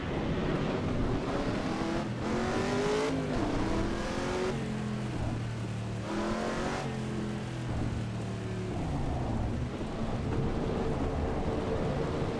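Steady rain during a session of the Assetto Corsa EVO racing game, mixed with a continuous engine drone that rises and falls through gear changes, loud and unbroken throughout.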